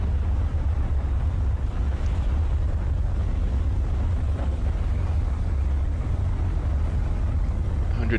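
Tornado wind in the video game Tornado: Research and Rescue roars as a loud, dense, continuous low rumble with gusting noise that fills the whole stretch without a break.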